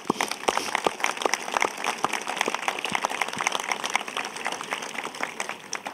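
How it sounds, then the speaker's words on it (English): An audience at an honorary doctoral degree conferment ceremony claps in a steady, dense patter that carries evenly throughout, with no voices above it. "Will you join me in applauding her?"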